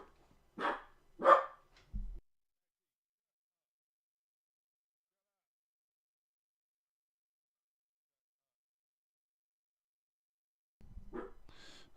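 A dog barks close by in two sharp barks with a short trailing sound, then long silence before another bark at the end.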